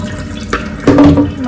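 Water runs from a kitchen tap, a steady splashing stream that swells louder partway through as the flow strengthens into a sink.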